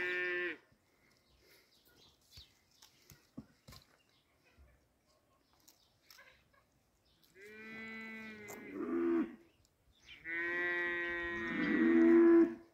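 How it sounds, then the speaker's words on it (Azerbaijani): Two long, loud cow moos with rich harmonic tone rise out of near silence late in the clip, after a stretch of faint scattered knocks in a cattle barn. "Rəqibin inəyi bu tərəfdən məliyir."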